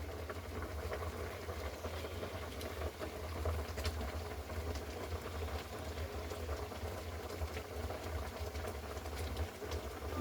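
Green mango preserve (morobba) boiling in a pot, a steady thick bubbling simmer that runs continuously at moderate volume with a few faint clinks, no talking.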